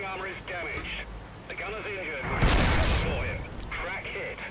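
A Hellcat tank destroyer's gun fires in a World War II tank video game, heard as one heavy, booming shot under steady engine rumble while a player talks over the action.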